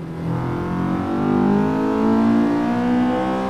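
A Peugeot 207i races at around 160 in the Assetto Corsa driving game, its engine droning loudly and continuously with pitch that climbs and wavers under acceleration.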